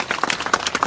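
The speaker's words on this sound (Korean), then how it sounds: "그분들한테도 여러분 진짜 박수 한번 보내주셔야 돼요" A brief patter of audience clapping at a lecture hall talk, quick overlapping claps lasting about a second, fairly close and without voices.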